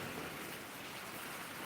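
Steady rain pours down ahead of an approaching storm, a dense, even hiss of drops on surfaces filling the whole moment, with no distinct thunder standing out.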